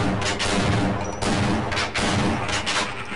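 Loud shotgun blasts in the Half-Life video game, several booming shots in quick succession with short gaps between them, close and dominant with no talking.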